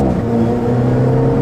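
A 2015 Alfa Romeo 4C, a small rear-engine car, pulls loud and close, its engine holding a steady low harmonic drone through a brief burst of acceleration.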